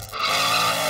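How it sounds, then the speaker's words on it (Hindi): Cartoon car screeching to a stop while parking, a brief high tire squeal that swells quickly and holds loud to the end. "गाड़ी पार्क हो गई"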